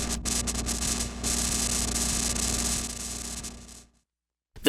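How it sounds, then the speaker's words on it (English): VCR noise from a Generation Loss MKII tape-degradation module, a dense hissing static wash over a low steady hum that cuts out abruptly to silence before a brief burst returns. "Counterclockwise for VCR noise."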